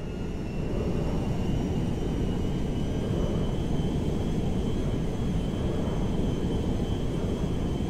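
A cargo jet descends toward Mackenzie Field in GTA V, its engines a steady, loud broadband roar with a faint high whine, continuous and unaccompanied by speech.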